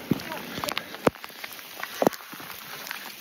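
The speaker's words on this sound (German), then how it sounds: "Oh Mann, volles hagelt." Hail pelts down during a mountain thunderstorm in the Balkans, sounding as scattered sharp ticks and cracks on hard surfaces and rocks, with a few louder close impacts over a faint steady hiss.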